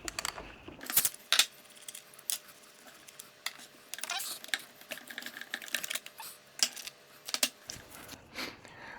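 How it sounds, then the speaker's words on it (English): A socket wrench works loose the chain and guide bar on an Echo chainsaw, giving scattered metallic clicks, ratcheting ticks and small clanks close by in an otherwise quiet space. "let's go ahead and remove the chain and the guide, the 1/2-inch socket"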